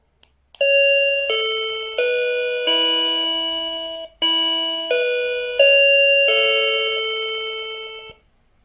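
A home by somogyi DBS 1001DC wireless doorbell plays a loud, clear multi-tone chime melody of about seven sustained notes, each decaying into the next, close and alone with no talk.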